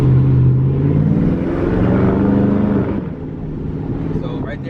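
A 2019 Dodge Charger R/T Daytona's engine hums steadily from inside the cabin while driving at moderate speed, a low continuous drone that eases slightly toward the end.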